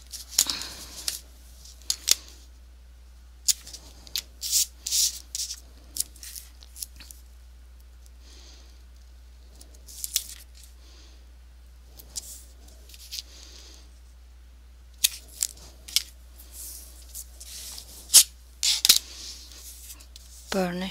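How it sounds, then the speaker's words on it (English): Narrow 3/8 inch tape is pressed along the edge of paper for a pop-up photo album, giving quiet, intermittent crinkles, taps and rubbing sounds separated by near silence. "This is 3/8 of an inch tape, and I'm going to apply it as close to the edge"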